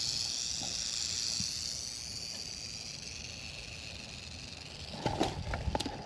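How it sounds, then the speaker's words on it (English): A rattlesnake's rattle buzzes faintly from inside a pack rat nest underground, a soft continuous hiss fading low beneath outdoor ambience, with a few brief scuffing sounds near the end. "I can hear the rattle starting to disappear underground"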